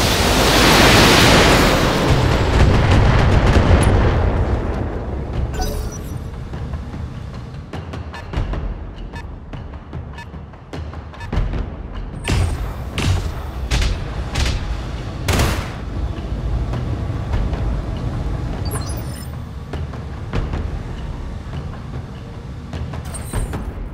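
A full weapons salvo from BattleTech mechs erupts in a loud roaring blast at the start, then decays into scattered booms and sharp impact cracks that continue intermittently.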